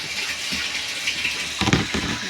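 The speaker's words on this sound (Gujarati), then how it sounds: "ત્યાં આવ્યું છે પાણી, એમ કરે પાણી ભરાય છે." A steady stream of running water fills a container nearby, a continuous hiss with a brief splashier burst near the end.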